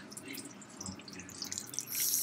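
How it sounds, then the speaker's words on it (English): Homemade broth, still partly frozen, poured into an Instant Pot over browned pork, giving a close, short liquid splashing and trickling that grows louder at the end. "So now that the pork is brown, I will be adding the broth."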